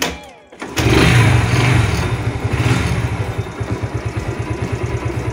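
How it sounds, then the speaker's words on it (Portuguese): A Yamaha YBR Factor 125 motorcycle is kick-started: a short scrape and clunk, then the engine catches with a loud rev that settles into a rapid, steady idle, close by and without voices. "Dá uma partidinha aqui na moto, né? A pedal."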